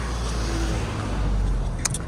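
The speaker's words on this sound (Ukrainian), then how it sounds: "Машин стільки, начебто ми в Києві." A car passes on a busy street in the Ukrainian town of Yaremche, a close, loud engine and tyre rush swelling steadily over about two seconds with no talk.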